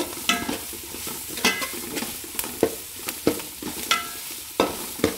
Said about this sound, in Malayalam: അതൊന്ന് ഒന്നുകൂടെ ഒന്ന് വഴറ്റിയെടുക്കാം കേട്ടോ